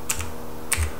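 Typing on a computer keyboard to enter a search in Windows 10, two quick close keystrokes about half a second apart, crisp and alone.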